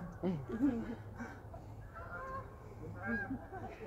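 Geese honk repeatedly in short, uneven bursts, fairly close, with a voice talking at times beneath the calls.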